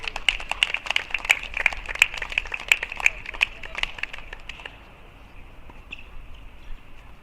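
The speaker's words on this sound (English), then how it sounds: "Give another round of applause." Audience at a junior national tennis championship gives a round of applause, brisk scattered claps that fade out after a few seconds, with a voice briefly heard.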